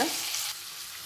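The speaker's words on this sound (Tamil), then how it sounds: "தக்காளி இங்கே வதங்கட்டும்." Chopped tomatoes with a little salt sauté in a pan for brinjal gravy, making a brief, close, steady sizzle that softens slightly partway through, with no talking.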